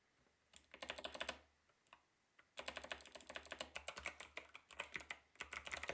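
Rapid keystrokes clatter on a computer keyboard while a line is entered in the vim editor: a short burst, a brief pause, then a longer steady run of close, crisp clicks.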